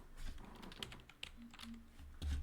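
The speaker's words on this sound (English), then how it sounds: "Let me type this in real quick" Quick bursts of computer keyboard typing, close and moderately loud, with uneven clicks over a low room hum and no speech.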